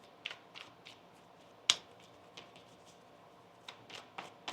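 A deck of tarot cards is shuffled in a quiet room, giving a string of soft, brief papery riffles and taps with one sharper snap near the start, faint and close with no talk.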